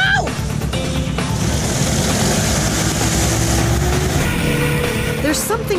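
An Air Rider hovercraft at Gordon Bay Marine runs with a loud, steady engine and propeller drone, holding constant for several seconds with faint higher whines on top.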